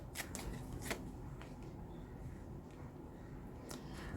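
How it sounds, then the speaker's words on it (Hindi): Tarot cards are shuffled and pulled from the deck close up, giving soft riffling and papery slaps in a few quick bursts over a quiet background, with no voices. "Let's pull out some more cards for you."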